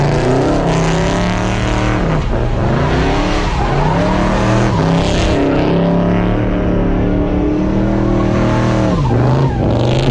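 Chevy donk doing donuts, its engine roaring loud and steady while the tires squeal and skid in continuous sweeping waves with pitch rising and falling through the turns.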